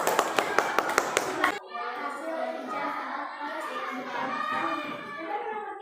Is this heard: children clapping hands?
yes